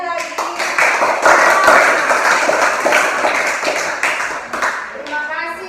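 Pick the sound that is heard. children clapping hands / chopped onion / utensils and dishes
children clapping hands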